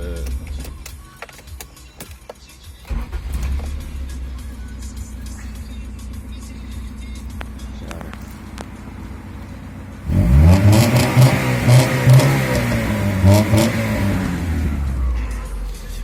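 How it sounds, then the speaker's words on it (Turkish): A Honda Civic 1.5 EF engine idles with a low rumble, then revs up loudly several times, the exhaust roaring in rising and falling waves close by. "Egzozda çok tatlı bir ses var."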